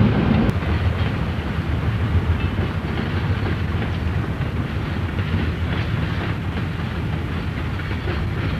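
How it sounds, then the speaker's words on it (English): An L&N local freight train rumbles steadily past close by, taking a siding, with a continuous heavy roar and faint rhythmic clatter of wheels on rails. "The daily southbound local freight from DeCourcy to Louisville is taking the siding for a meet with Train 4"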